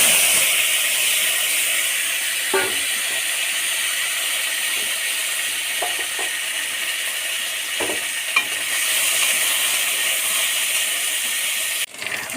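Chopped potatoes and onions, seasoned with a pinch of turmeric, sizzle steadily in a pan with a constant close hiss, broken by occasional stirring scrapes and clicks, with no voices.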